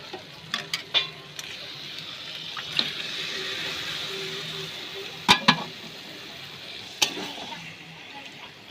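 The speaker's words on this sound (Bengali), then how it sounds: "এখন আমি মাংসগুলো এর মধ্যে দিয়ে দেব।" Chicken pieces go into a pan of sizzling fried spice masala for a chicken curry. A steady hiss runs under sharp clanks and scrapes of a utensil against the pan.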